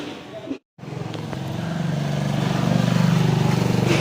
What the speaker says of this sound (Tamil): செம்ம டிராஃபிக்ங்க, தாங்க முடியாத டிராஃபிக்கு.